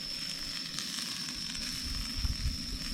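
Potatoes, onion and sweet potatoes fry in a pan over a camp cooking setup at night, a steady close sizzle with soft crackles and occasional stirring, no talking.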